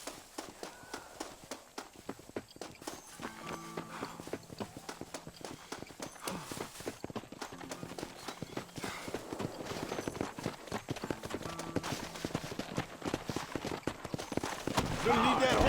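Horse hooves clip-clop steadily in the Red Dead Redemption video game, a quick rhythmic patter of hoofbeats over in-game music and ambience, growing louder toward the end.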